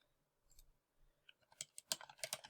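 A username and password are typed on a computer keyboard. Quiet key clicks start sparse, then speed up into a quick, close, irregular run of taps.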